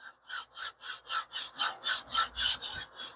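Knife blade stroked back and forth on a coarse 150 grit stone in a TS Prof Cadet Pro guided sharpening system; about a dozen even, rhythmic gritty scrapes, close and clear with no talk.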